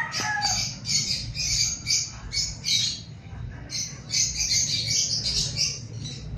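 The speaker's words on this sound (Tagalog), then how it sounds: "Maingay po yung background natin guys kasi naririnig nyo may ibon." A neighbor's pet birds chirp and squawk in a dense, repeated stream of shrill calls, fairly close and lively over a low background hum, with brief pauses between bursts.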